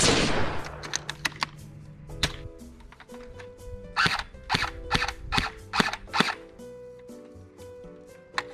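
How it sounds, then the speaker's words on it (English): Gunshots from guns fired outdoors, a rapid string of sharp, loud cracks at an irregular rhythm, close by and with no talk over them. "time to go shoot some guns"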